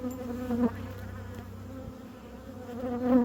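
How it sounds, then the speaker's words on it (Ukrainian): Honeybees buzz close by in a steady droning hum, individual bees swelling louder as they pass near, with no talking. "бджоли на телефон ціпляються."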